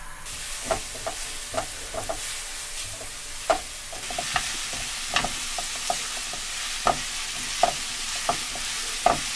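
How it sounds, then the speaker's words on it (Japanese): Onion and garlic sauté gently in olive oil over low heat, giving a soft steady sizzle broken by a dozen or so sharp spatula clicks against the pan at irregular intervals, with no talking. "オリーブオイルで玉ねぎとニンニクを弱火で炒めます。"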